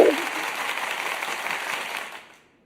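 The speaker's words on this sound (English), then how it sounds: "Can we all have a round of applause for Bama?" Audience applause for a performer, a broad wash of clapping that holds steady for about two seconds and then fades quickly to silence.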